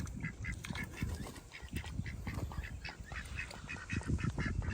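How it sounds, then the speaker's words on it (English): A duck at a crocodile sanctuary quacking repeatedly in short, close bursts, with a steady outdoor background around it. "the duck with the injured legs"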